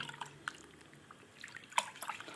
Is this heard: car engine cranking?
no